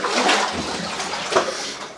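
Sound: water sloshing inside a mine while walking

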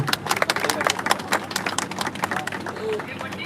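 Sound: crowd applauding

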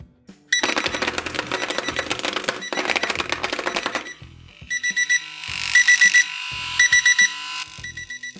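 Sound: vibrating alarm clock going off

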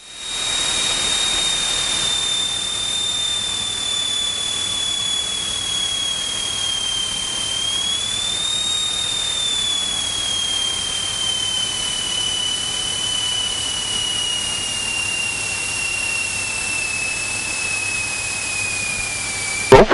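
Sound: small tailwheel airplane landing on runway

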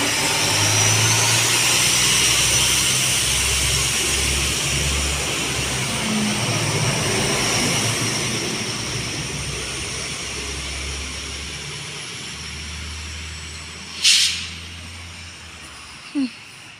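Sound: train departing Warszawa Rembertów station

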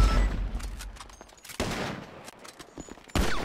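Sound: gunfire in a video game police roleplay

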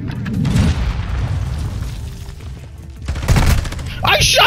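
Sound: gunshot in a shooter video game

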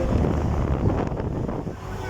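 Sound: strong wind blowing

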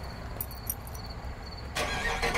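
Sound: car with Flowmaster exhaust starting via remote start

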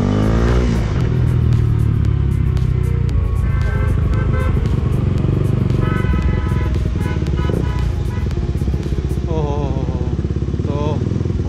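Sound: KTM RC200 motorcycle engine running

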